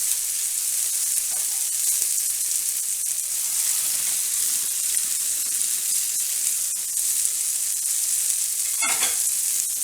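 Chorizo frying with potatoes and onion in a pan, a loud, even sizzle running throughout with one brief scrape of a utensil near the end.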